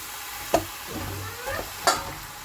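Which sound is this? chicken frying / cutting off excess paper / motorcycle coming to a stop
chicken frying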